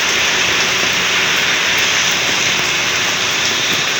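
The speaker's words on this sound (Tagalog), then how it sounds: "Lakas ng ulan no?" Heavy rain pours down in the Philippines as a steady, loud, dense hiss, unbroken from start to finish with no voices.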